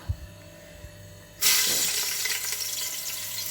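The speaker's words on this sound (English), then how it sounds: "So let's bring the mushrooms closer, and then I'm going to put them in gradually and fry them up" Sliced shiitake and woodland mushrooms drop into hot, non-smoking oil and set off a loud, steady broadband sizzle that holds close and even. A few quiet kitchen clatters come just before.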